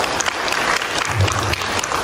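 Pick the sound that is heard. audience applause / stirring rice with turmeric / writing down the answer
audience applause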